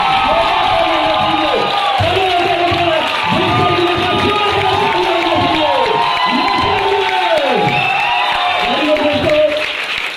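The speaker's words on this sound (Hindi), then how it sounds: "तो मैं चाहूंगा कि सभी लोग दिल से एक बार दादा के लिए एक बार जोरदार ताली होनी चाहिए।" A workshop audience in a training hall breaks into loud, sustained applause with cheering, shouts and whoops, filling the room continuously and close. Voices call out over the clapping throughout.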